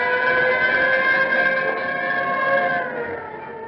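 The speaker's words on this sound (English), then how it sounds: "When you hear the scream of the siren and police cars go tearing past" A police car siren sound effect from an old radio drama wails as a steady, loud, slightly lo-fi tone that sags and fades toward the end, with no talking over it.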